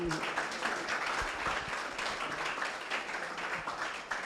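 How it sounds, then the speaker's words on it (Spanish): An audience at a reading event applauds with steady, dense clapping throughout, fairly distant and soft, with a bit of murmuring underneath. "Aplausos,"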